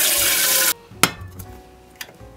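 Water pouring into a pot for cooking ramen, a loud close rushing stream that stops abruptly, followed by a couple of sharp clinks and knocks from the pot, no talk.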